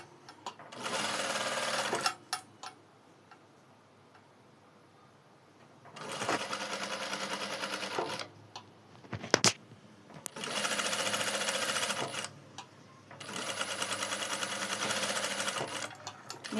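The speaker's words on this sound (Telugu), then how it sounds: "ఇలా కుట్టేటప్పుడు కుట్టు స్ట్రైట్గా వచ్చేటట్టు చూసుకోండి, అటు ఇటు జరగకుండా" A sewing machine stitches piping onto a blouse in three long, steady runs separated by short pauses, loud and close, with a few brief clicks between runs.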